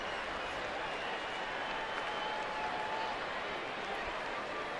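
Crowd at a San Diego versus San Francisco baseball game applauding a good catch, a steady, dense wash of clapping and crowd noise that holds evenly throughout without pause.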